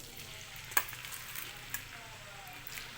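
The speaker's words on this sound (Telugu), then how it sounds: "ఇలా కాకరకాయ ముక్కలు అయితే వేసుకుంటున్నాను" Bitter gourd pieces fry in hot oil with a faint, steady sizzle, marked by a couple of sharp crackles early on, quiet and close.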